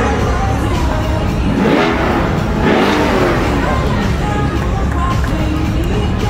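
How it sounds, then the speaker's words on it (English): Loud supercar engines revving and roaring up close at a Barrett-Jackson car auction, with crowd noise and muffled voices mixed in. "we love to hear them rev up, so rev away"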